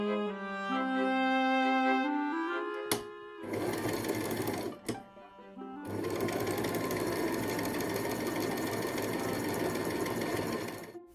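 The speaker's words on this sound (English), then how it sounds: "she's sewing two panels together to make the top part of" A sewing machine stitches two fabric panels together for the top of a miniature doll's house mattress. It runs in loud, close bursts with a brief pause midway, and tonal background sound is heard at the start.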